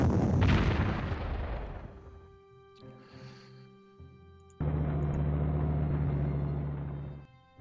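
Artillery fire in the strategy game Panzer Corps: a loud booming rumble that decays slowly, then a second heavy rumble after a short lull, over a steady background hum.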